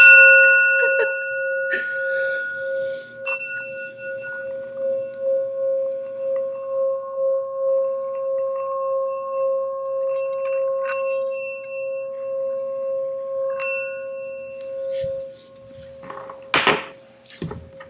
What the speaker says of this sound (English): let's ring the sound bowl